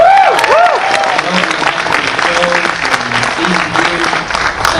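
An enthusiastic crowd at a Q&A screening for Andor applauds loudly and steadily, dense clapping close and sustained throughout, with some cheering and a voice speaking over it near the start.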